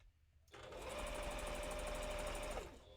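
A sewing machine fitted with a fresh needle stitches through fabric for a dragon tail costume, starting abruptly with a steady, fast mechanical whirr that runs about two seconds at close range before winding down.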